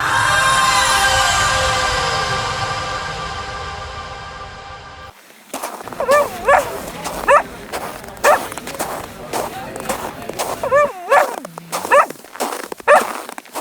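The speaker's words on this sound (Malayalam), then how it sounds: "ആ യാത്രയിൽ അവർക്കൊപ്പം ചേർന്നത് ഒരു വിശ്വസ്തനായ നായയായിരുന്നു, ഖിത്മീർ." A loyal dog in a retold legend of youths journeying to the mountains barks and whimpers repeatedly after a swelling musical opening, the yelps and whines coming in uneven bursts close up.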